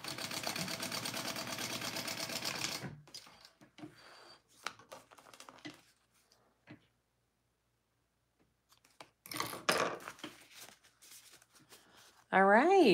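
Sewing machine running a top stitch along a garment pocket, a steady rapid whirr for the first few seconds, followed by scattered handling clicks and rustles, then silence and brief fabric movement.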